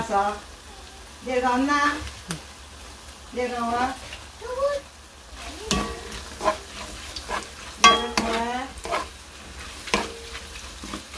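Tofu sisig with chili sizzles and is stirred in a pan, a soft continuous frying hiss under intermittent talking.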